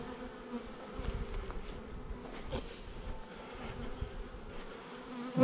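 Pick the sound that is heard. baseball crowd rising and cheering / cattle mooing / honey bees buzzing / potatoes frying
honey bees buzzing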